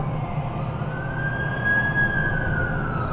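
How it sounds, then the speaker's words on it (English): Ambulance siren in The Amazing Spider-Man 2 video game, a steady wailing tone that rises and falls over a constant low traffic rumble, fairly loud and alone without voices. "That's the ambulance I called."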